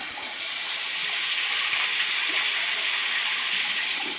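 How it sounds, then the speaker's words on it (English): Waterfall of meltwater pouring through the middle of an ice climbing route in warm conditions, a steady broadband rush of falling water heard up close, constant and unbroken with no voices. "there's a waterfall running through the middle of our climb"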